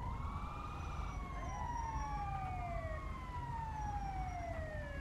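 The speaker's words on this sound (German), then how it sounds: "Krankenwagen kommt, okay." In GTA 5, a police-mod patrol hears an ambulance siren wail in long rising and falling sweeps. The loud, steady siren overlaps itself, with a low rumble of traffic underneath and no talking.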